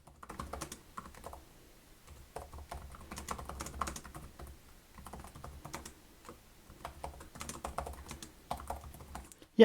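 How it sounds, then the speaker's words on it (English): Light typing on the low-profile keyboard of a Samsung Galaxy Book4 Edge laptop, quick soft key clicks in uneven bursts with short pauses, close and fairly quiet. "let's do a quick typing test here and see if I actually like the feeling of them"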